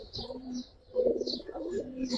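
Giribaz pigeons cooing close by, soft low rolling coos repeating in short phrases over a couple of seconds, with faint chirps and a murmur of voices in the background.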